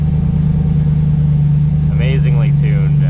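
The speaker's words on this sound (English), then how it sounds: "Look at that perfect idling" An LS-swapped drag car engine idles with a steady, deep low rumble close by, running evenly throughout while someone speaks over it in the second half.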